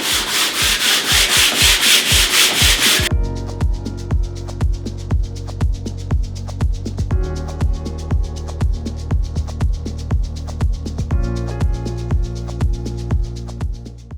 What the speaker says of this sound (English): Sand the surface. I'm going to go with the grain because this is quite coarse.